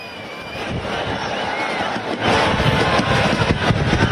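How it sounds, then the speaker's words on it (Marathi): Dense crowd of fans cheering and chanting for Team India outside Mumbai airport, a loud continuous roar that grows fuller partway through, with scattered sharp noises mixed in. "एकच जल्लोष सुरू आहे टीम इंडियाच्या नावाने जयघोष सुरू आहे"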